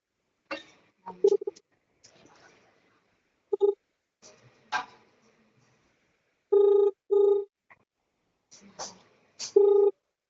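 Telephone ringback tone for an unanswered outgoing call sounds in several short paired bursts, interspersed with brief clicks and bits of speech between rings.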